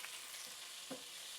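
Onions being sautéed toward caramelizing for chicken liver adobo, a soft steady sizzle with a couple of faint stirring scrapes, quiet and brief.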